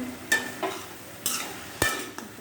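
Ash gourd pieces fry in a pan with a soft, steady sizzle, broken by several sharp stirring clatters and scrapes at uneven intervals.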